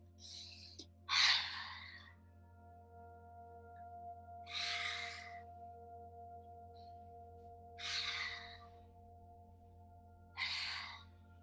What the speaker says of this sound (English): Big deep breaths into the diaphragm.